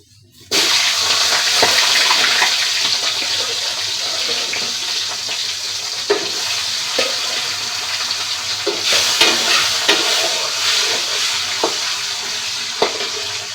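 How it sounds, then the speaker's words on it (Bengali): Hilsa fish frying in hot oil in a home kitchen, a loud, steady broadband sizzle starting abruptly and continuing throughout, with occasional pops and crackles. "এখন তেলটা গরম হয়ে গেছে গাইস, আমি ইলিশ মাছ ভাজা করে নিব।"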